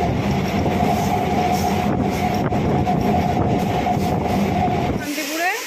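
Rumbling interior of a crowded passenger train in motion, steady loud rail noise and clatter with a faint squeal, fading abruptly near the end; murmuring voices of passengers blend into the din.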